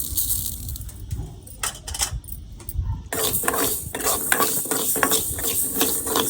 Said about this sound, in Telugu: ఇదిగోండి వేగిపోయినాయి ఆవాలు కూడా